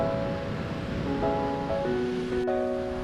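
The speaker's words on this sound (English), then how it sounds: "This is the Caribbean Sea." Caribbean Sea waves breaking on a Dominican Republic shore, a soft, continuous wash of surf beneath sustained musical tones, moderately distant and even.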